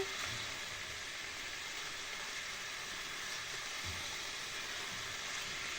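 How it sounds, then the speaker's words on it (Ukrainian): A soft, steady sizzle of mushrooms frying in a pan, a continuous faint hiss with occasional small pops. "хай воно смажиться все разом"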